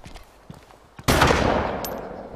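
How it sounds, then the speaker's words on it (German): A gun fired in the video game DayZ erupts after a second of light scattered taps, as a loud sustained burst of rapid shots with a rumbling tail that fades slowly, close and dominant, with no talking. "Achtung, ich schieße."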